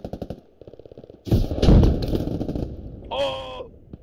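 Gunfire in the video game Squad: a rapid string of shots, then a loud heavy burst of fire with a tonal whine near the end, mixed close and strong.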